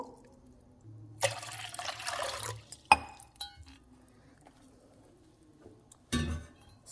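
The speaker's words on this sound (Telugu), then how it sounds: "సో ఒక టూ గ్లాస్ వాటర్ యాడ్ చేసుకోవాలి" Water splashes and pours into a bowl in a short burst, about two glasses' worth, then a clink and a few drips, with another brief pour near the end.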